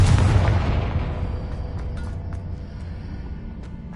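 A Confringo fire spell detonates in the video game Hogwarts Legacy with one loud, deep boom at the start, then a long rumbling decay that fades over several seconds, with faint crackling debris.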